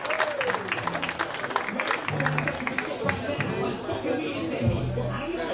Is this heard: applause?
yes